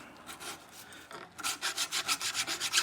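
Crust being scrubbed off the rear brake caliper carrier of a 2022 Hyundai Tucson gives a quiet, close rasping rub, first slow and then a quick regular back-and-forth rhythm of strokes.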